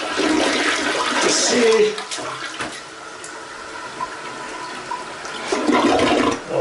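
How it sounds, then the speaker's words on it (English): A toilet flushes close by, opening with a loud rushing surge that settles into a steady gurgling refill, while someone talks briefly over it. "I'm flushing this"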